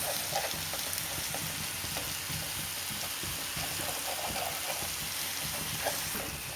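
Ginger garlic paste sizzling and frying in a pan for chicken curry while being stirred, a steady close crackle with soft scraping knocks of the spoon scattered throughout.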